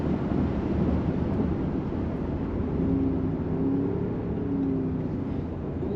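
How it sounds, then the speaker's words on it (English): A Range Rover Sport driving on gravel at the Goodwood circuit, heard from inside the cabin as a steady low rumble of engine and tyre noise with a faint droning tone, no voices. "We're going to go and do a little bit on the gravel."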